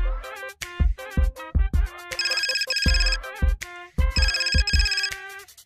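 A mobile phone ringtone plays in an Odia comedy scene, a loud melodic electronic tune of punchy notes and repeated bright beeping bursts in an uneven rhythm, heard alone.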